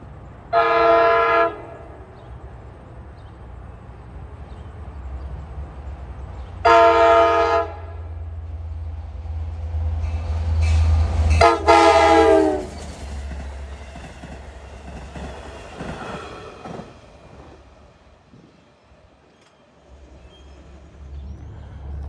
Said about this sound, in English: This train has a very high horsepower per ton ratio.